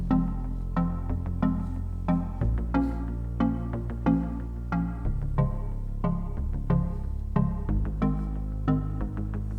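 Studio beat intro in Studio One 4, built in a reggaeton style, with delayed plucks, muted guitar and a low synth bass doubling the same notes, playing as a steady rhythmic loop with regular accents and no voice.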